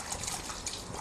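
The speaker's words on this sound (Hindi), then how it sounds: "अभी सबसे पहले तो मैं इसको बॉल में डाल के इसको हम वॉश करेंगे" Faint tap water runs and trickles into a bowl as raw chicken pieces are washed for chilli chicken, a soft continuous splashing hiss.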